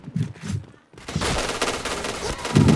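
SC90 rifle fire in the shooter game Point Blank rattles out as a rapid burst after a short lull, loud and close, with brief muffled voice sounds at the start.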